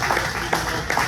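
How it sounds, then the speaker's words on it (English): An indoor audience at a talk applauds: dense, steady clapping from many hands with no voices over it. "But everyone give a round of applause for Dan."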